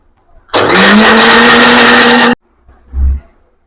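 A mixer grinder grinding coconut pieces for coconut milk whirs loudly for about two seconds, then cuts off, followed by a short low thump.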